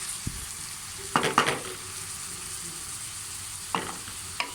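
Okra and onion curry being stirred in a pan, a soft background sizzle broken by a few brief scraping and clattering bursts of a spoon against the cookware.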